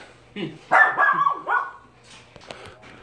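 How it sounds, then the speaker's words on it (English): A dog barks several times in a loud, close burst indoors during a wood-cleaning job on an old oiled kitchen table, with whimpering yips and a steady low hum underneath. "And the pain in the neck dog."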